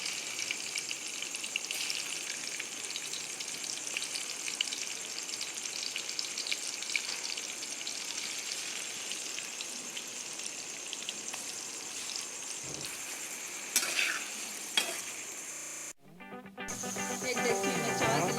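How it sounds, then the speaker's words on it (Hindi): Chicken pieces frying in oil for chicken manchurian, a soft steady sizzle and crackle running throughout, with a few clinks of utensils near the end. "अब इसमें ऑयल में हम चिकन फ्राई करेंगे।"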